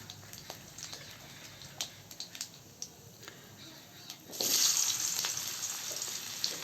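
Dry red chillies and nigella seeds hit hot oil in a kadai, a few faint ticks and pops first, then a sudden loud, hissing sizzle that swells and holds steady close by.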